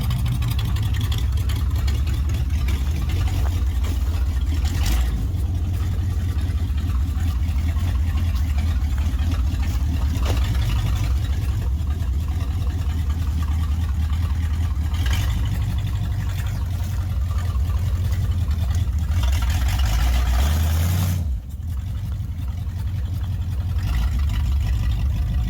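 A 1955 Hemi Dodge car engine runs steadily as it reverses, a loud, close, low rumbling drone with a brief dip in power near the end.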